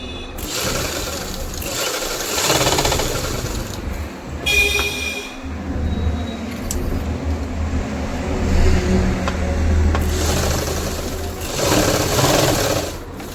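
An electric sewing machine stitches a trouser waist joint, its motor whirring in steady runs that rise and ease, with a faint mechanical clatter and a short pause midway.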